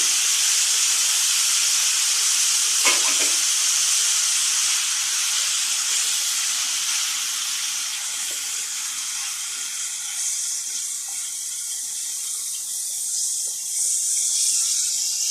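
Onion hits frying shawarma in a hot pan, giving a loud, sustained sizzle and hiss that flares briefly at the start and keeps crackling evenly throughout.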